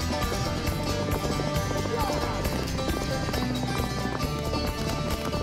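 Galloping Mongolian horse hooves pound in a steady rapid rhythm beneath a dense, loud wash of music and voices, never standing out clearly.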